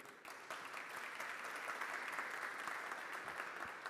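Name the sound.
round of applause for the MC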